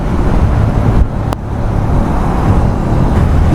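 Steady road traffic heard from a Bajaj Avenger Cruise 220 motorcycle on a highway ride from Gurugram toward Agra, with wind rush and engine drone and a vehicle passing close by.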